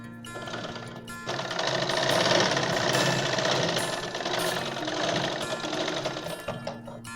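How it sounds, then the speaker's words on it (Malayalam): A sewing machine runs steadily while stitching the side seams of a straight pant, a loud continuous mechanical whir lasting several seconds, with quieter stops before and after and no talk. "അങ്ങനെ 2 സൈഡ് നമ്മൾ സ്റ്റിച്ച് ചെയ്യും."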